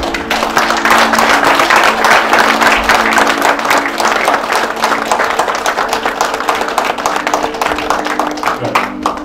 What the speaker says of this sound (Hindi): तो एक बार अपने स्थान पर खड़े होके तालियां बजा के बुलाएंगे श्री दिनेश कुमार